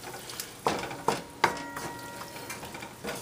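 Tomato sauce for an empanada filling simmering in a pan with a faint steady sizzle, broken by a few sharp clinks of a utensil stirring against the pan.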